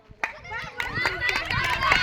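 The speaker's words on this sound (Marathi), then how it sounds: "चला टाळी द्या पुढचे।" Children clap their hands in a school setting, a scattered run of sharp claps mixed with lively chatter from young voices nearby.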